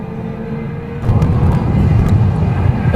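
Nissan March 1000cc race cars swell from a low drone to a loud, close engine roar as they pass through the gooseneck section at Katukurunda Circuit, the rumble holding steady and heavy to the end.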